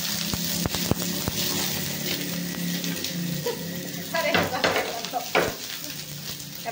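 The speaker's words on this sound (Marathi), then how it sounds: "बघा मस्त असा कांदा आपण लाल भाजून घेतोय" Onion frying in a pressure cooker until reddish for a dhaba-style egg curry, a steady close sizzle with scraping stirs and occasional clinks.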